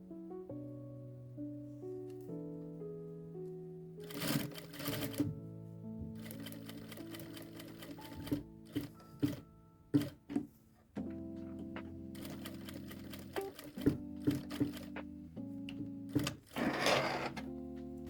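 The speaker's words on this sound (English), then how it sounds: "Stitch close to the inner edge of the bias tape all the way around to secure it in place." A sewing machine stitches bias tape around a teddy jacket in short bursts and longer runs of rapid mechanical whirring, heard close and fairly quiet over soft background music.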